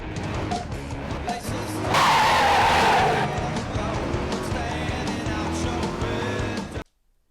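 Racing game audio from Midnight Club 3 run on a PSP emulator: a continuous car engine roar with a loud burst of tire squeal partway through, close and dense, then cutting off abruptly.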